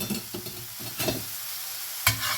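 Onions sizzle in a pan while being stirred, with a soft steady frying hiss broken by a few brief scraping stirs, close and moderately quiet, no talking.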